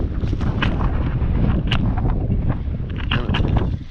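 Gusty wind buffets a GoPro Hero 7 with a Saramonic mic on top of a lumber stack where tin roofing is being fixed. A heavy, rumbling roar of wind noise sits close on the microphone, with a few sharper gust bursts and no talk.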